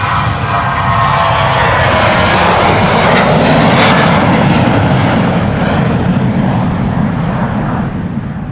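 A KLM airliner at Schiphol's Polderbaan runway roars close and loud with heavy, sustained engine noise that crests in the middle and tapers slightly toward the end, with no voices over it.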